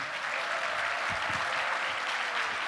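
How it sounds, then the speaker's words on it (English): An audience at a Native American college opening ceremony gives sustained, even applause, a dense wash of clapping from many hands with no talking. "please give her a round of applause like the rock star that she is"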